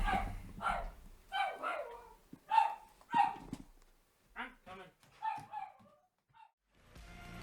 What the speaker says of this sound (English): Ah, fucking dog went nuts again.